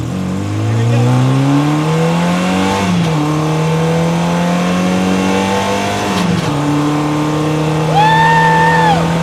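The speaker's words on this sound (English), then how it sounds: "This is when we get to test out a little bit of the acceleration, see what the speed will really do" A 1967 Triumph Spitfire race car accelerates hard up through the gears, its engine note climbing with each pull and dropping at two quick shifts. The engine is loud and close, with no talking over it.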